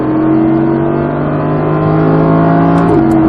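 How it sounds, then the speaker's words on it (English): An Audi R8 V10 accelerating hard on a track, a loud, steady engine roar heard from inside the car, its pitch holding high and sustained before a brief shift near the end. "squeeze back under the gas, accelerate as hard as you want"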